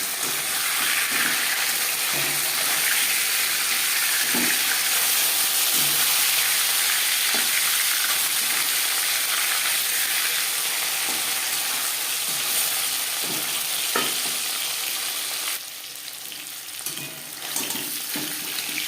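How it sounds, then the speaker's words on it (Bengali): Kalbaus fish frying in a pan gives a continuous close sizzle with occasional soft knocks and scrapes, easing slightly near the end, and no voices. "একটা সাইজ ভাজা হয়ে গেলে অপর সাইজটা উল্টে দেবো"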